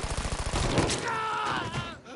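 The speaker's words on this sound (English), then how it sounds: "I just shot him in the arm." A single gunshot cracks in Mafia 3 gameplay, close and sharp near the start, followed by a pained groan and lingering game ambience.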